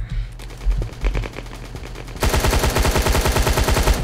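Rapid automatic weapon fire in the shooter game Battlefield 2042, with a few spaced shots first and then a dense, loud sustained burst of close gunfire.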